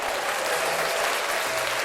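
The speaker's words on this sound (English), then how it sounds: "Where's the applause button? Hit it." A button-triggered applause effect plays as a short, dense burst of clapping from a crowd, loud and even from start to end, with no voices over it.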